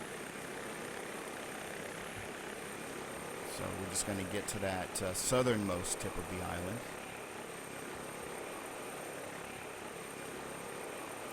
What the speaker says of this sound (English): this can only be so fascinating watching me fly around in a helicopter for an hour